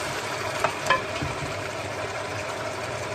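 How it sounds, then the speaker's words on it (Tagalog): Coconut-cream vegetables with crab stirred in a pan, a continuous close simmering sizzle broken by a couple of quick utensil scrapes, with no talking. "So, haluin lang natin."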